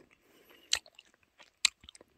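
Someone bites into a small, sweet, sugar-coated fruit candy with two sharp, close crunches, followed by a few softer chewing clicks in a quiet room.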